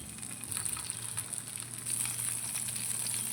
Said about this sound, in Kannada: ಹಾಕಿ ಇದರಲ್ಲಿ ಒಳ್ಳೆ ಬಿಸಿ ಆಗುವಾಗ ಒಂದೊಂದೇ ಪೀಸ್ ಫ್ರೈ ಮಾಡಲಿಕ್ಕೆ ಹಾಕುವ